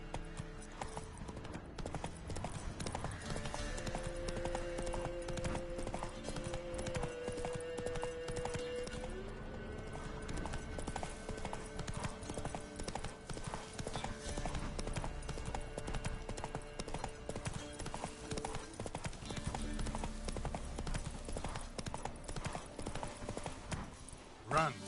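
A horse gallops in The Witcher 3, its steady rhythmic hoofbeats running throughout with occasional snorts and a whinny, set against game music and a speaking voice.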